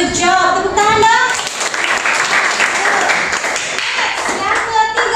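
A classroom audience clapping hands together, a dense burst of applause lasting several seconds, with a few voices at the start.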